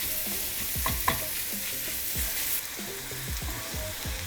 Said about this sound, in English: So let me saute this up real quick and we'll be back.